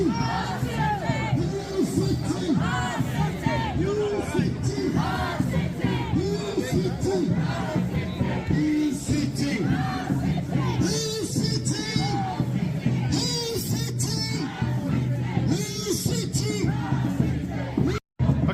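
A large crowd of protesters at a general election petition rally shouting and yelling together, loud and close, with overlapping voices and chants filling the scene continuously.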